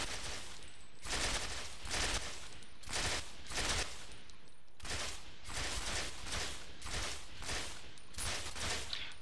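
Automatic rifle fire in Ghost Recon Phantoms, a series of sustained full-auto bursts separated by short pauses, sharp and fairly loud with no speech.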